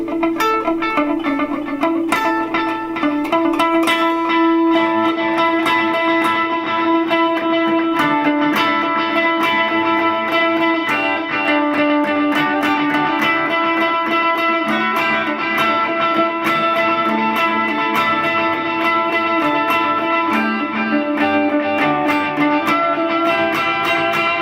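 Electric guitar chords ring out with delay repeats and a wash of reverb, sustained and spacious, playing continuously without any voices.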